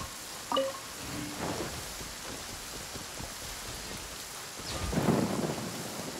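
Steady rain pours with low rumbles of thunder in the Genshin Impact video game, a continuous wash of falling water with a louder thunder roll swelling near the end.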